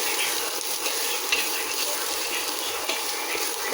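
Garlic frying in a pan for pork and chicken adobo, a dense steady sizzle close by with a couple of light stirring clicks, no one speaking.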